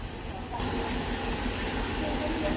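A steady, loud rumbling hiss of a train passing nearby, with continuous low engine drone and broadband noise throughout.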